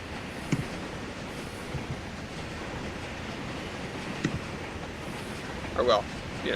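Low, steady rumble of a train rolling along in a train driving video game, continuous and even with a few faint clicks and squeals on top, fairly quiet throughout.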